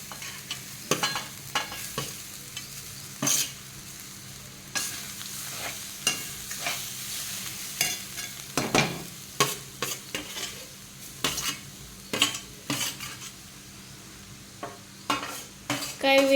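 Minced soybeans are stirred and fried in a pan with coriander for a paratha filling. A soft sizzle runs beneath repeated sharp scrapes and clinks of a utensil against the pan, arriving in irregular bursts.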